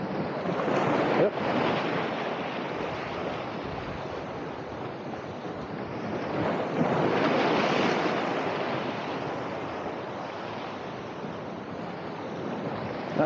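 Big ocean waves roll and break on the shore near Georgioupoli, Crete, a continuous heavy roar of surf with wind buffeting the microphone.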